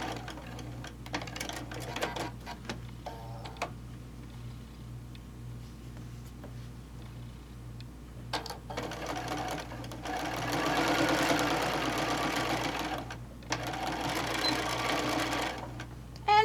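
A sewing machine stitches darts on a fabric bowl cozy, its needle running in a fast, even mechanical patter close by, broken by short pauses and restarts, with a steady low hum underneath.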